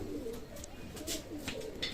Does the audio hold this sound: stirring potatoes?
no